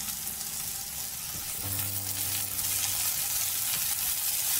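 Chopped cabbage and mixed vegetables for veg chow mein sauté in a hot pan, giving a steady, close sizzle with a low hum running underneath; nobody speaks.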